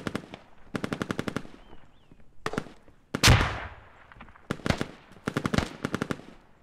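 Rapid bursts of automatic gunfire giving covering fire in the video game Squad, loud staccato volleys repeating in clusters with a heavy blast near the middle, no talk over it.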